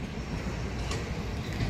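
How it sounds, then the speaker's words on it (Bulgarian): A train rolls through a railway station in Bulgaria, giving a steady, loud rumble of wheels on rails with faint clatter, continuous and close throughout with no voices. "Ето го и влак"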